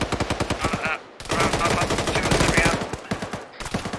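Rapid automatic gunfire during squad training, sharp rhythmic bursts of shots fired close by in quick succession, with brief pauses between strings of rounds.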